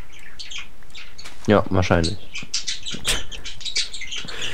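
Bird chirps and tweets in Minecraft, short bright calls scattered throughout, heard under and between casual conversation.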